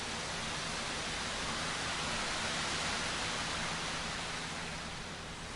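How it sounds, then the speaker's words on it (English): Steady broadband wash of ocean waves from a Payday 2 game ambience, a continuous rushing roar that stays even and loud throughout with no distinct breaks or voices. "Sounds like an ocean."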